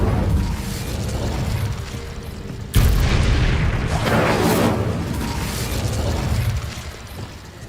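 Incendio fire spell blast in Hogwarts Legacy, a sudden sharp bang followed by a roaring, crackling burst of flame that rumbles and fades over several seconds among other game effects.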